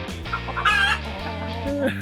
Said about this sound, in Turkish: Bu da bizim horozumuz.